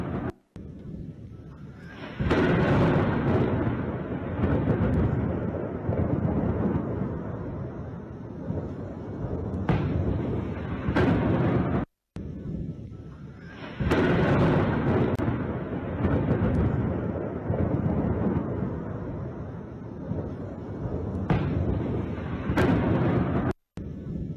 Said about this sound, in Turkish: İşte bu patlamaları, bu saldırı seslerini duyan Kiev sakinleri